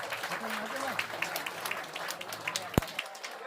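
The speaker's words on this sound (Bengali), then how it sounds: "জোরে হাততালি একবার এই অর্কিড সংস্থার জন্য" A live audience at a stage comedy show applauds the Orchid drama troupe, a dense patter of clapping mixed with a speaking voice, ending in a sharp single hit before trailing off.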